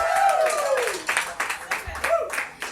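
Scattered hand clapping from a small live audience for an opening musician at a show, several quick claps in a short burst under and between a voice.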